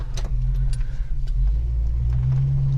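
A Holden HK car engine idles at about 500-600 RPM, a steady low rumble close by that holds even throughout, with a few faint clicks and taps riding over it.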